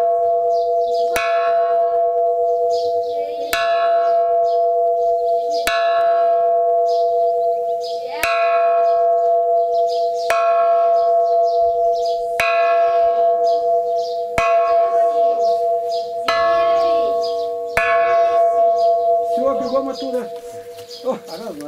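Large church bell struck repeatedly in a slow, even rhythm, each loud ringing stroke decaying into a sustained hum, with light chatter in the background.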